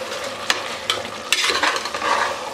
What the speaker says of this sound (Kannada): ಶುಂಠಿ ಬೆಳ್ಳುಳ್ಳಿ ಪೇಸ್ಟು ಹಸಿ ವಾಸನೆ ಹೋಗೋವರೆಗೂ ಫ್ರೈ ಮಾಡ್ಕೊಳ್ಳಿ